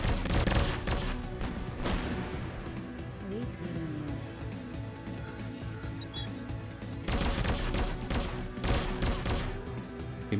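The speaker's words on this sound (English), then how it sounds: "we can start firing all the things we have" Mechs firing their weapons in the turn-based tactics game Precursors: Armored Angels, bursts of rapid gunfire and blasts at the start and again near the end, loud and dense, with a voice talking over the middle.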